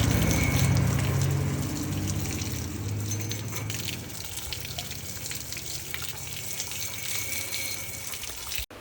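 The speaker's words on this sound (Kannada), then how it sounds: "ನನ್ನ ಸಿಂಬಾಗೆ ಪೈಪಲ್ಲಿ ನೀರು ಬಿಡ್ತಾಯಿದ್ದೆ" Water gushes steadily from a hose pipe outdoors on a sunny day, a continuous splashing flow that cuts off abruptly at the very end.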